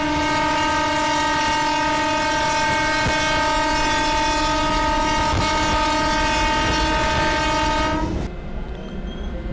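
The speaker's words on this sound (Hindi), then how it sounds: "एक बार हॉर्न भी बजा देते हैं" An EMU local train sounds its horn in the Open Rails train simulator game on the Sealdah–Dankuni route: one loud, sustained horn blast held for about eight seconds, then a lower rolling rumble as the train departs.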